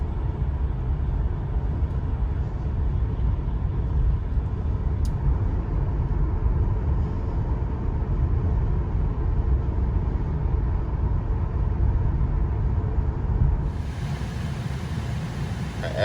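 A Tesla Model 3 Performance launches hard, with a sustained low road-and-wind roar inside the car that holds steady before thinning out near the end.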